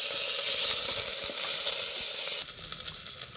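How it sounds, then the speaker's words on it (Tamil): Green chillies and curry leaves hit hot oil for a mutton trotter curry and sizzle loudly with a bright, steady hiss, close up, easing noticeably about two-thirds through. "இப்போ வந்து பச்சை மிளகாய் போட்டுக்கலாம். அடுத்தது கருவேப்பிலையும் போட்டு அதோட கிண்டி விட்டுக்கலாம்."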